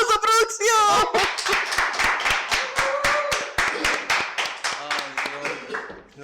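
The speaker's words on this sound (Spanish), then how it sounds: "¡Fuerte el aplauso, producción!" A studio audience on a TV variety show claps in an uneven patter, starting under a woman's exclamation and continuing with sharp, close hand claps while voices carry on over it.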